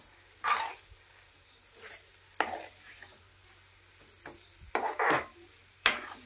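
Sheera halwa being stirred in a pan for Navratri prasad: a spoon scrapes and pushes the cooked semolina in short, irregular strokes close by, separated by quiet gaps, with no talking.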